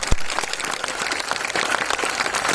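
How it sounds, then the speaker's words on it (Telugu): A crowd at a motivational talk claps in a dense, continuous burst of applause, fairly loud and steady throughout, with no voices standing out. "please raise your hands and clap harder for all of them"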